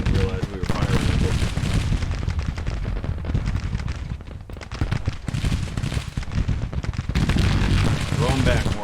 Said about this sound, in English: Oh, we grabbed that gun. Didn't realize we were firing it